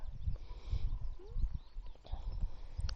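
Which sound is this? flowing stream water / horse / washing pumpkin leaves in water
horse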